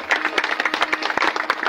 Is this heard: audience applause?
yes